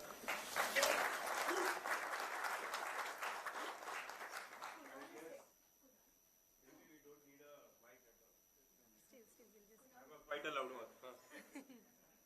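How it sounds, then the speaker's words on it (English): Loud, dense applause from an audience in an auditorium welcoming a speaker, for about five seconds, then it stops abruptly and quiet talking follows. "let us welcome him with a big round of applause"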